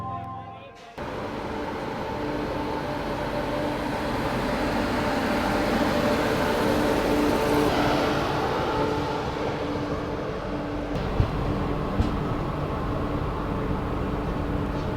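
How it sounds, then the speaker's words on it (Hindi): A passenger train departs, heard from inside a general-class coach on a Jaipur to Hyderabad line: a steady, loud rumble of wheels and carriage noise that builds gradually, with a few faint clanks near the end. "एक तरफ हमारी ट्रेन का हो रहा है डिपार्चर, और गीतांजलि का हो रहा है अराइवल।"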